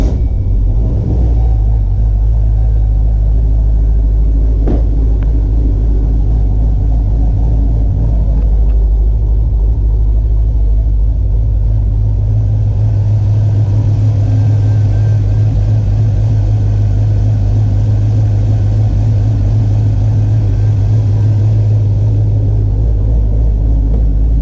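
Twin-turbo 5.3-liter V8 with an LS6 cam in a GMC Canyon truck cranks and fires up, then settles into a deep, loud, steady idle rumble that continues close by for over twenty seconds with no talking.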